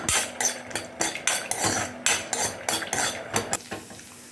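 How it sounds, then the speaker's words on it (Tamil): Cashew nuts roasting in hot ghee in a heavy pan, with about a dozen rhythmic metallic scrapes and clinks of a spoon against the pan over a soft frying hiss, close and clear with no talk. "நெய் நல்லா சூடானதுக்கப்புறமா கொஞ்சமாக முந்திரி பருப்பு சேர்த்துட்டு நல்லா வறுத்துக்கலாம்"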